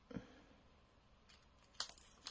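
Scissors snip through a piece of card in a quiet room, giving a few faint, crisp cuts spread over a couple of seconds.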